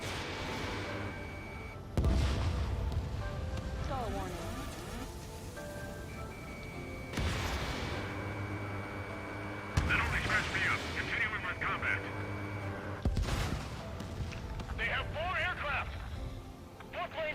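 Missile launches and gunfire in the jet combat game Ace Combat 7: several loud booming bursts spaced a few seconds apart, with whooshing streaks and rattling fire under steady radio chatter.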